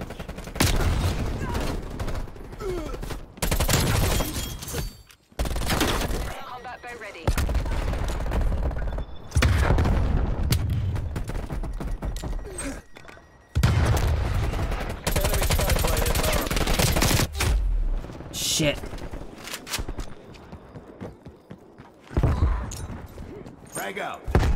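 Grenade blasts and rattling gunfire in a Call of Duty Black Ops Cold War hardpoint match, loud bursts of automatic fire and booms in repeated clusters broken by brief gaps, with a voice speaking over parts of it.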